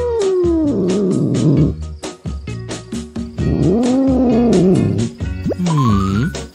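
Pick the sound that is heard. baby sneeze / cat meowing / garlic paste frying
cat meowing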